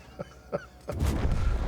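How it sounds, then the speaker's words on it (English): A tank gun fires in World of Tanks, a sudden loud blast that rolls on into a sustained booming rumble, preceded by two short faint honk-like blips. "it's going to take a third shot"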